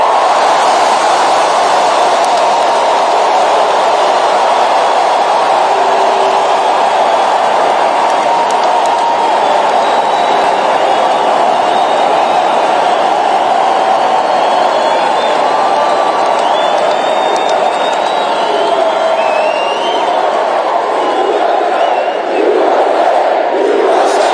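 A large crowd at a Donald Trump campaign rally in Bozeman, Montana cheers, claps and whoops continuously for over twenty seconds, a loud sustained roar with scattered shouts and no clear speech.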